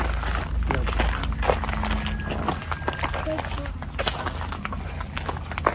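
Horses' hooves clip-clop at an agricultural site in the Cayman Islands, an irregular patter of thuds and knocks under steady outdoor noise while people talk.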